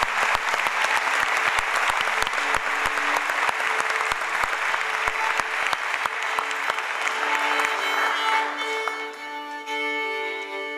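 Audience applause at a tango concert at the Auditorio Juan Victoria in San Juan, Argentina: a dense, steady wash of clapping from a large crowd that thins and fades over the last few seconds as tones begin to ring.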